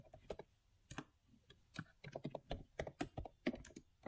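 Fingers type on a computer keyboard, a quiet, close run of irregular key clicks that speeds into a steady patter toward the end, with no talking.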